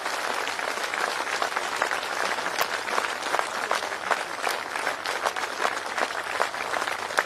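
Sustained audience applause at a ceremony, dense steady clapping from a large crowd filling the whole stretch with no voices over it.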